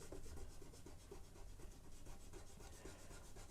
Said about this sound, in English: So I'm just quickly rubbing out the big spaces